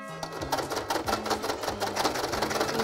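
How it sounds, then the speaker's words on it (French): A domestic sewing machine runs continuously at close range, its needle hammering in a fast, even rhythm with a steady mechanical whir and no talk. "on m'a prêté une machine à coudre."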